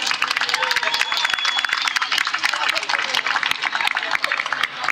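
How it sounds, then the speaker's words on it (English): A crowd at a psoriasis charity walk applauds, a dense rattle of many hands clapping continuously throughout, with voices mixed in the crowd noise. "So let's give a round of applause."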